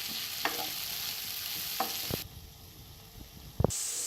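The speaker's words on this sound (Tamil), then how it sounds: "இதையும் சேர்த்துட்டு நல்லா வதக்கிடுங்க." Soya chunks and chopped capsicum sautéing in a pan, a steady soft sizzle under a few scraping stirs, with a brief quieter stretch before the frying hiss returns.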